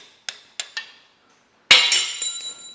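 A brass punch strikes a final drive bolt on a Massey Ferguson 65 tractor: three sharp metallic taps, a pause, then a louder ringing hit that clatters briefly.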